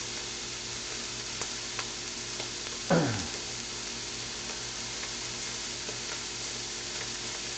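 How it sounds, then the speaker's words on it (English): A steak sears in a hot pan, a steady loud sizzle and hiss running throughout, with a brief louder crackle burst near the middle as the meat shifts. "You want to get a good sear on either side."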